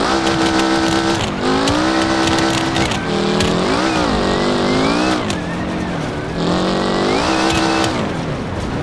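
An offroad vehicle engine in the driving game BeamNG roars loud and steady, rising and falling in pitch as the throttle is worked, with occasional clunks and thuds and no speech.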